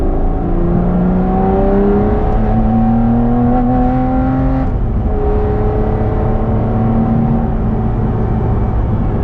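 An Aston Martin V12 engine pulls hard under part throttle, its loud, rising tone climbing steadily through the gears with a brief dip midway, heard from inside the car with no talking.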